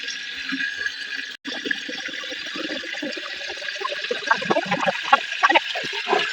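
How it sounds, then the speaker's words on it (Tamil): Water pours steadily into a half-full tank during a water-capacity test, a continuous broadband gush with trickling and splashing that grows slightly busier as the tank fills, close and alone. "தண்ணி பார்த்தீங்கன்னா இப்போதைக்கு ஆஃப் டேங்க் மேலே ஃபில் ஆயிடுச்சு"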